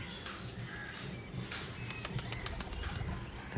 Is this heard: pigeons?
yes